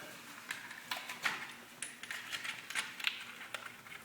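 Small metal bolt and washer handled and fitted onto a floor sander while refinishing wood floors, giving a string of light, faint metallic clicks and clinks spread across the moment, with no talk.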